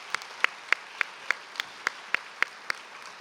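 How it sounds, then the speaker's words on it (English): Sparse applause at a conference awards brunch for the event staff: roughly ten separate sharp claps spaced evenly, like a few people clapping slowly in a fairly quiet room with no voices. "give a round of applause to all the staff that really put the entire conference together"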